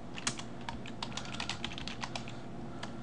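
Quick, irregular clatter of keys on a computer keyboard while Python code is typed, close up and steady, with no talking.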